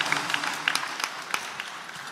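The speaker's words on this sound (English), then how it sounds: "Give her another round of applause, please" Applause from an audience at a women's policy roundtable luncheon: a steady patter of many hands clapping, moderately close, with a few sharper individual claps standing out.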